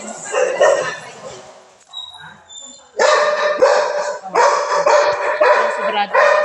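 Pet dogs bark in loud, repeated bursts at close range, with a short quieter gap before the barking resumes, over background voices and household noise.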